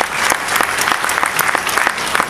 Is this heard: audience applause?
yes